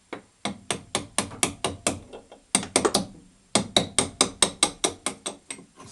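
A hammer strikes a drift punch, made from an old valve, to drive a bolt out of a VAZ 2110 suspension: loud, close metallic blows in steady rapid series, about two or three a second, with one brief pause, no talk.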